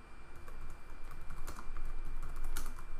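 Keystrokes on a computer keyboard while entering a name in Revit software, a quick uneven run of close, crisp clicks over a steady low hum, with no voices.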